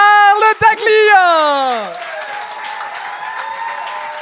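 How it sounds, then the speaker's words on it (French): Live comedy club audience applauding as a stand-up comedian is welcomed to the stage, clapping rising under a host's loud drawn-out introduction and then continuing as a lively crowd wash. "On accueille le premier avec un tonnerre d'applaudissements, Charles Daglia!"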